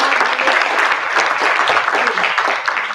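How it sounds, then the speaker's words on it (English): Students and parents at an architecture orientation clap together, a loud, close burst of applause that stays dense and steady before tapering at the end. "Can we all clap?"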